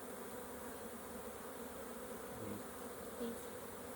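A steady, low hum of many honeybees buzzing together in a hive during an inspection, continuous and fairly faint, with no voices.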